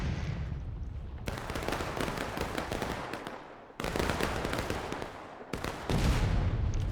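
Musket volleys crackle in the video game War of Rights during an independent-fire exchange at a hay bale, bursts of dense, overlapping shots in three long stretches separated by brief lulls.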